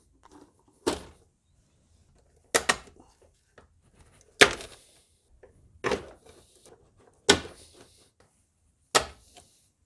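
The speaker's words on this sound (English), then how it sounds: "Use a flathead screwdriver and pry it out." A flathead screwdriver pries out plastic clips on the air filter housing of a Mercedes W176, giving six sharp, separate clicks and pops spaced a second or two apart, close and clear against near silence.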